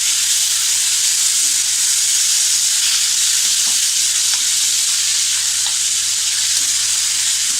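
Two medium tomatoes sizzle and fry steadily in a pan over medium heat while being stirred for a dry pea vegetable dish, a constant loud hiss with faint scraping, no voices.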